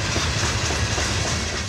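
Train rolling past on the rails in the historic railroad town of Wildwood, a loud, close, steady roar with a rhythmic clickety-clack of wheels over the rail joints.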